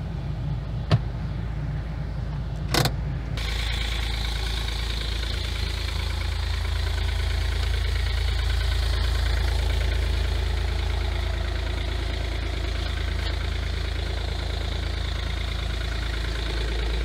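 A Smart fortwo 0.8 CDI diesel engine idles steadily and fairly loudly up close, with a low, even rumble that carries on after a couple of short knocks at the start.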